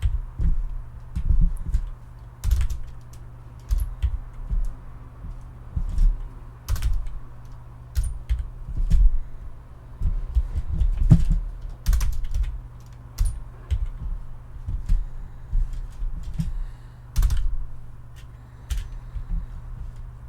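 Computer keyboard keys tapped in irregular clusters, close and fairly loud over a steady low hum, with short pauses between bursts and no voices.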